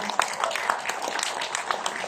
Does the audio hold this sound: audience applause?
yes